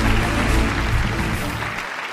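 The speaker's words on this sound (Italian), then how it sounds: "Bravi, bravi, bravi. Un applauso." Audience applause at the Le Fonti Awards 2018 ceremony, a short, dense burst of clapping from a crowd that stays loud and even before easing slightly.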